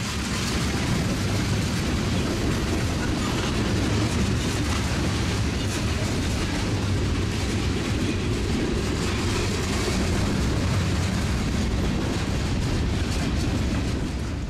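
BNSF trains rumble past steadily and loudly at the Tehachapi Loop, a continuous heavy low roar with faint rail clatter throughout and no voices.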